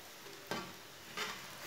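A radish paratha cooks on a pan, a faint steady sizzle with two soft scraping or flipping bursts, quiet and close with no voices.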